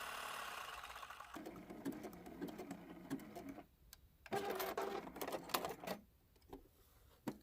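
A sewing machine satin-stitches yellow thread around a spoon appliqué, running steadily and close for a few seconds, pausing briefly, then running again in short bursts.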